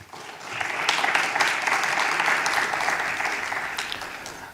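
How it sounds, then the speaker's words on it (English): Applause from an audience at a global health forum in Geneva, a steady, full clapping that swells quickly and holds for several seconds before tapering off. "Please welcome him with a round of applause."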